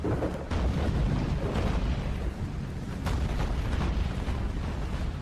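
Ship cannons fire at an enemy cruiser during a naval battle in the video game Battlestations Pacific, a rolling series of heavy booms and blasts layered over a continuous rumbling roar, loud and sustained.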